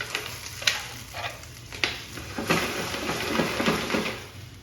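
Clams dropped into a hot pan and frying, a continuous sizzle with a few clattering knocks and stirring sounds as the shells land and shift, close and moderately loud.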